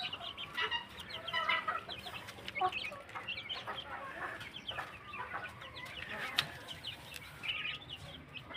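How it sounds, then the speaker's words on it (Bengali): Young Brahma chicken chicks cluck and peep continuously on a small farm, many overlapping calls at close range with occasional wing flutters. "এই হচ্ছে ব্রাহ্মা মুরগি।"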